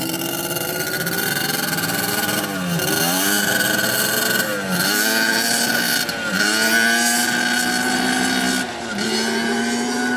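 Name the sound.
Banshee ATV riding off down the road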